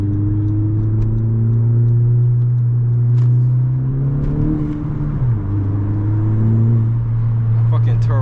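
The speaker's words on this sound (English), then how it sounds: "That fucking turbo sounds good." Turbocharged Honda Civic Si with a manual gearbox pulling hard in traffic, its engine droning loud and steady close by with a rising, dipping whir as it revs and shifts, while someone talks over it.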